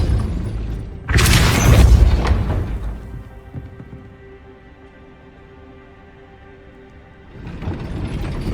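A heavy gate being raised by a mechanism in Hogwarts Legacy: a loud booming clank opens it, followed by a long, steady mechanical grinding rumble with ratcheting texture that fades down, then a swell of noise near the end.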